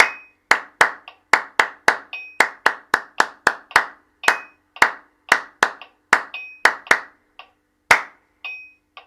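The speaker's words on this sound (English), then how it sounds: "there's a little bit of practice in counting rhythms and clapping at the same time" Crisp hand claps in counted rhythmic patterns, each clap sharp and close, grouped in varied bursts with short pauses between phrases and no other sound behind them.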